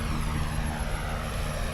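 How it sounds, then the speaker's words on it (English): Airliner engines in Microsoft Flight Simulator drone at a constant level with a cabin door left open, a dense low rumble under a thin, steady high-pitched whine, close and unbroken. "the engines did sound really good, but now they kind of sound like shit"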